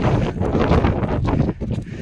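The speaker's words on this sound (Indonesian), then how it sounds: "Angin" Strong cold wind on Papandayan mountain, a loud broadband roar buffeting the microphone continuously and briefly easing near the end.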